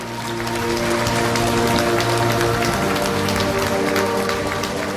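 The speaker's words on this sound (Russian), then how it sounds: "Ваши аплодисменты нашим спонсорам" A concert-hall audience applauds the sponsors at a season-closing gala, a dense, steady wash of clapping that holds at full strength for the whole stretch, with faint tonal music sustained underneath.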